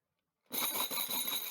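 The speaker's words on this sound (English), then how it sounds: "That's a lot of sheep bells." After a moment of silence, a dense jangle of many small sheep bells starts at once and keeps ringing in a bright, continuous clatter with no voices.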